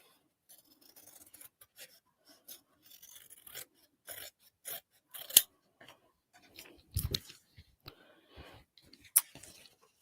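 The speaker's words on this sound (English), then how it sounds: "I'm just sort of cutting up to that stitching." Scissors snip through fabric up to the stitching on a handmade crossbody bag, giving a series of close, sharp cuts and soft rasping slides with short quiet gaps between them.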